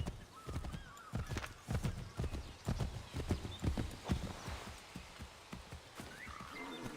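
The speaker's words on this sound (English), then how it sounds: "Come on, horse. You ain't that tired." A horse walks along in Assassin's Creed 3, its hooves clip-clopping in an even rhythm nearby, moderately soft, thinning out toward the end.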